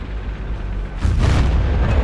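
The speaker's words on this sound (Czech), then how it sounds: "ještě před ním vybuchl Jeep" A jeep blows up in Battlefield 1942, a sudden deep boom that rises out of steady background rumble about halfway through and then holds as a loud, rolling roar.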